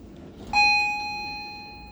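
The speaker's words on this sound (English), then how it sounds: "Let's ring the chime from down here." A ThyssenKrupp machine-room-less elevator at Changi Airport Terminal 2 sounds its chime: a single clear electronic ding that strikes suddenly and rings out, slowly decaying, with quiet surroundings and no talk.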